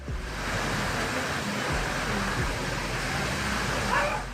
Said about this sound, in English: The amount of water spraying on the street doesn't seem to slow down.